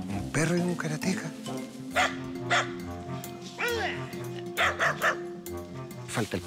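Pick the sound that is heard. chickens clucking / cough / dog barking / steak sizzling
dog barking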